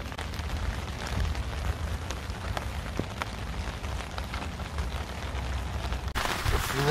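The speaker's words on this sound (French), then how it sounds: "Une bonne pluie là qui commence à tomber" Steady rain patters on surfaces all around by a pond, a dense continuous hiss with scattered louder drops, close by.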